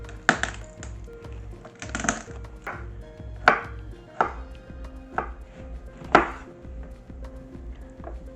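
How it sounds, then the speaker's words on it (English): A knife halves cherry tomatoes on a cutting board in a series of sharp, separate chops spaced irregularly about a second apart, close and clear over a faint hum. "and cut some cherry tomatoes in half."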